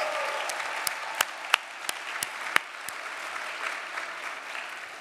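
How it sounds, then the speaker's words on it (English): An annual dinner crowd gives a round of applause, steady clapping from many people with several loud individual claps close by. "Yeah, let's have a round of applause for Mike."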